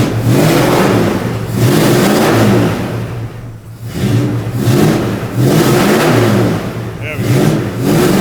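A 1973 Plymouth Duster's engine revs loudly up and down in repeated swells, close by, with a short dip between pulls; people talk over it.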